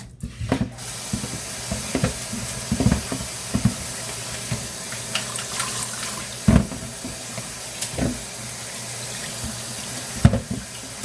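Tap water runs steadily into a sink as watermelon rind is rinsed in a colander. There is a constant hiss with scattered knocks and splashes from the pieces being handled, and no talking.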